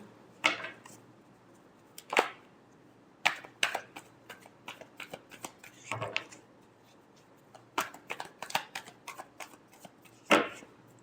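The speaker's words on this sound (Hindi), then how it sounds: "last shuffle" Tarot cards are shuffled in a brisk series of close, crisp slaps and riffles that come in irregular bursts, with short quiet gaps between them and no speech.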